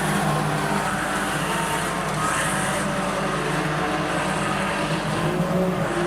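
Junior sedan race cars at Rockhampton Speedway, a dense, continuous roar of several engines running together at close range, holding steady without pause and free of speech.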